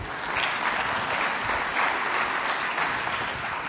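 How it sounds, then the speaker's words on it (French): Steady, dense applause from an audience at a partner recognition event, evenly sustained throughout with no talking over it. "on peut l'applaudir"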